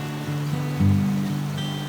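White River in Montana's Bob Marshall Wilderness flowing beside an outfitters camp, a steady close rush of moving water with low hums running under it throughout, no talking.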